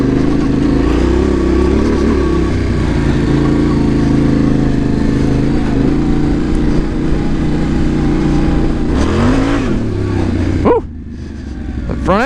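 Yamaha Tenere 700 adventure motorcycle ridden along a bumpy off-road trail: a loud, close engine drones steadily with wind and rattling, then the revs rise and fall sharply near the end.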